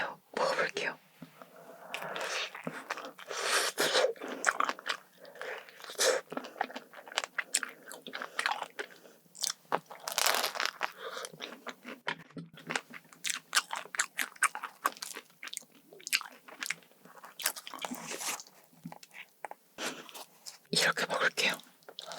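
Strawberry and blueberry cream croissant bitten and chewed close to the mic, with crisp flaky crunches and soft creamy chewing in an irregular rhythm, interspersed with quiet whispered talk.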